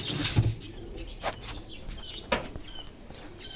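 Young king pigeons in a fancy pigeon loft give soft coos and rustle with brief wing flaps, close and fairly quiet, no voices.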